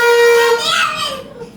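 A child blows a toy horn, giving a steady bright tone that sounds for about half a second, then shifts into a breathier, wavering note that fades over the rest of the clip.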